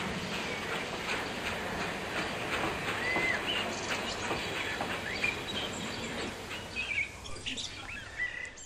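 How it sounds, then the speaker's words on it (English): A 5-inch gauge miniature model locomotive rumbles and clatters steadily along a track, with birds chirping and tweeting faintly in the background. "the young folk can take a ride on a 5-inch gauge model loco."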